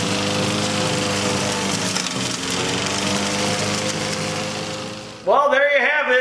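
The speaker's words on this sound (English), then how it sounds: "60-some-year-old lawnmower." An old Briggs and Stratton lawn mower engine, some sixty years old, runs steadily with a loud, continuous buzzing drone and dense harmonics for about five seconds, then cuts out abruptly as a voice begins speaking.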